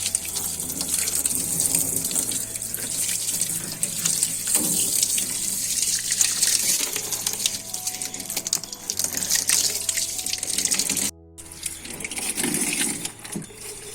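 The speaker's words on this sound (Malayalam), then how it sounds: "ജസ്റ്റ് പൈപ്പ് ഉപയോഗിച്ചൊന്ന് കഴുകി കൊടുക്കാണ്" Water from a hose pipe gushes steadily into an old fridge box being rinsed out, a loud, continuous splashing rush with a low hum beneath it and a brief cut near the end.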